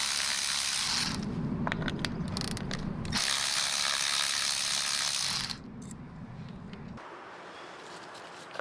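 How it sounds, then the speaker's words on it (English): A ratchet loosens the 8mm bolts holding the ignition coils on a 1995–1997 Jaguar XJ6. There are close, rapid clicking bursts in several separate spells with short pauses between them, then a quieter stretch at the end. "Next, remove the ignition coils. They're held down with 8mm bolts."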